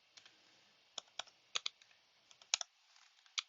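Sparse, irregular keystrokes on a computer keyboard while a package name is entered in the R console; quiet, crisp clicks in small clusters with pauses between, and no voices.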